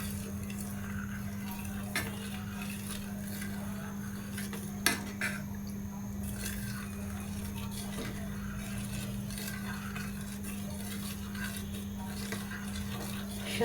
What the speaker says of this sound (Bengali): সুজি অনবরত নাড়তে হয়